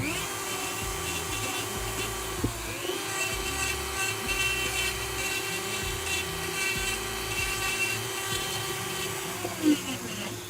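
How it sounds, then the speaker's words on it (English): A Dremel rotary tool switched by a foot pedal whines steadily at one constant pitch close by for the whole stretch, with faint background noise. "And then I got my Dremel on a foot pedal, just an on-off foot pedal."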